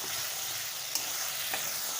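Spice paste for stuffed pointed gourd dorma with prawns sizzles steadily in a pan, a dense hiss broken by a couple of sharp stirring clicks.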